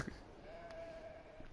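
A single sustained sheep bleat from the Beyond: Two Souls video game, moderately faint over a low background hum.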